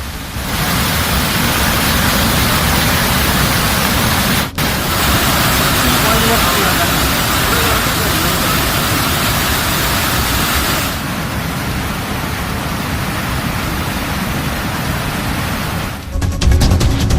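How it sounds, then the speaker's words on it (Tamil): A flash flood pours through Panchalinga waterfall in the Thirumoorthy hills, a dense, unbroken roar of rushing water that stays loud and close throughout. "திருமூர்த்தி மலையில் உள்ள பஞ்சலிங்க அருவியில் காட்டாற்று வெள்ளம் ஏற்பட்டுள்ளது"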